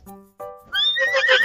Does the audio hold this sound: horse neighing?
yes